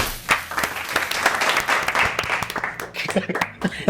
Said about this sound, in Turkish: kocaman alkışlarla Ceren İncelen geliyor